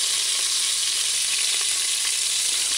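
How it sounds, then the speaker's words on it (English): Pieces of oxtail fry in a pan on a stove set to medium-low, giving a steady, close, even sizzle with faint crackles and no talking. "it's been frying on the other side for 2 minutes"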